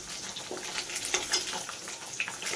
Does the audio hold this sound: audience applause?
no